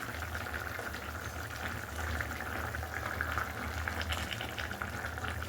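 Bengali fish gravy with kathkoi fish and potatoes boiling in a pot, a steady low bubbling simmer that continues evenly throughout, close and unaccompanied by speech.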